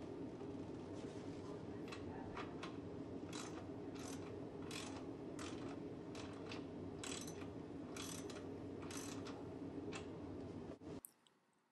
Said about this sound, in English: Use your wrench to securely attach the actuator to each plate.